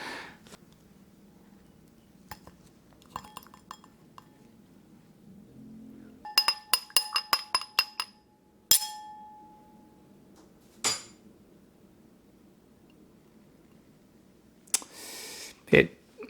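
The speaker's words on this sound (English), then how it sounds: "I'm going to place it inside my wine glass full of dye" A scoop clinks against a wine glass full of gardenia fruit dye, with scattered sharp glassy taps and a rapid cluster of clinks midway, separated by quiet stretches with faint rustling.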